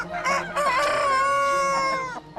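A rooster more than three years old, in a small riverside town by the Chishui River, gives one loud, close, drawn-out crow that rises and then trails off.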